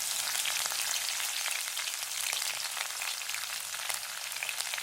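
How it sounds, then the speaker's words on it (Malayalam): Ginger and green chillies sizzle in a hot pan with a dense, steady crackling hiss that holds at an even level throughout, with no talk over it. "ഇഞ്ചി ഇട്ട് കൊടുക്കാം പച്ചമുളക് ഇട്ട് കൊടുക്കാം"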